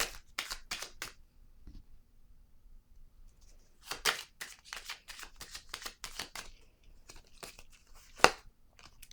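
Tarot cards are handled and laid down on a table in bursts of close, crisp shuffling and snapping card sounds, with quiet gaps between clusters and one sharp slap near the end.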